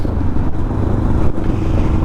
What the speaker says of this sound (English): I'm happy with this exhaust. She is sweet. Loud, but sweet.